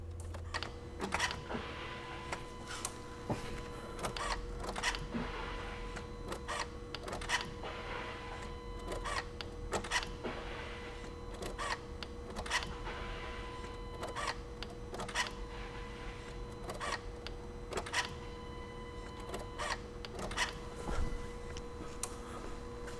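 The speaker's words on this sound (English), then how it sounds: "the fuel pump will run for a second each time you cycle the key" Fuel pump on a 2004 VW Jetta TDI with the BEW diesel engine priming as the key is cycled, giving repeated short whirring bursts with clicks at a steady rhythm, faint and close, with no talk.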